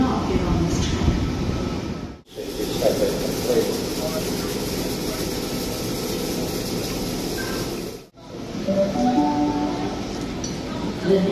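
A V set train shunting and coupling at Sydney Central station, with steady rumbling rail noise, faint metallic clinks and two short breaks in the sound. A station announcement plays over the noise.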